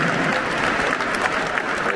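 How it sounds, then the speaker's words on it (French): A football stadium crowd at the Allianz Riviera applauds before a Nice versus OM match, a dense, loud roar of clapping filling the whole moment. "Je ne peux pas applaudir, mais j'applaudis comme ça"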